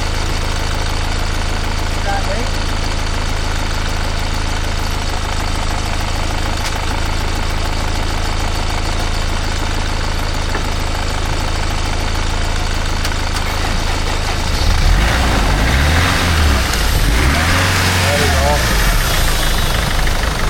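BMW 630i engine idling just after starting, a steady low rumble with a faint ticking that grows rougher and louder near the end, with people talking over it.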